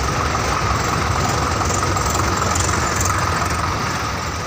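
A tractor engine idles at a farmers' tractor march in Punjab, a steady, loud, low rumble that runs unbroken throughout with no talk.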